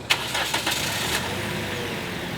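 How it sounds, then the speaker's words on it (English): A car engine cranks and catches with a few quick bursts, then settles into a steady idle hum, close and fairly loud. "we're gonna start the car and turn the AC on full blast"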